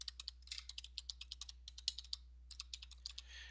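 Rapid keystrokes on a computer keyboard while entering a website name in sign design software, a steady run of close, crisp clicks with a brief pause midway.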